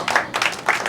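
Audience clapping at a ghazal poetry gathering, short bursts of applause from a crowd, fairly close and bright, with no talk over it.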